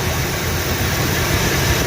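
A 1976 Chevy Nova's 355 small-block V8 with a Holley carburetor idles steadily at about 600 rpm with a low, even rumble, close by and continuous, with no talk over it.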